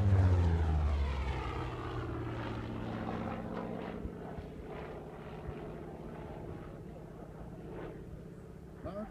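Grumman F8F Bearcat with a Pratt & Whitney R2800 Double Wasp two-row radial engine flying past, a loud droning roar at first that fades and recedes as it moves away, with a voice talking over it.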